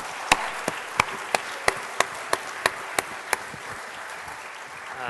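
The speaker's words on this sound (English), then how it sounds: "Let's give a big round of applause to our panelists again." Audience applause for panelists at an arts panel event: a steady wash of clapping with about ten sharp, evenly spaced claps standing out close by, lasting several seconds, with no talking.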